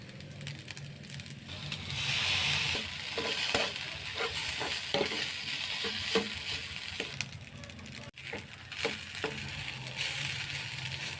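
Fried rice being stirred and fried in a pan for a home-cooked lunch, with a steady sizzle under repeated scraping, clattering strokes of a utensil against the pan at an irregular rhythm, close and fairly loud.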